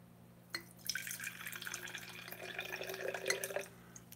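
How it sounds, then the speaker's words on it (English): Apple cider vinegar poured into a salad dressing container, a bright splashing trickle that starts after a small tap and runs steadily for about three seconds before stopping, with no talk. "apple cider vinegar, and I'm just going to fill it up to that first line"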